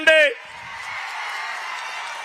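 A crowd at an election public meeting in Anantapuram, Andhra Pradesh, answers with a sustained roar of cheering and applause that follows a brief shout from a voice. The noise stays steady and fairly loud for about two seconds.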